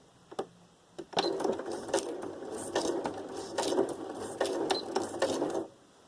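Sewing machine stitching a slow straight stitch with gold thread through paper, a steady mechanical whirr with rhythmic clicking needle strokes, close and continuous for several seconds before stopping, no talking.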